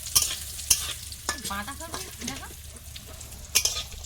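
Bori lentil dumplings fry in a pan with a steady soft sizzle, broken by a few sharp clinks of a spatula against the pan.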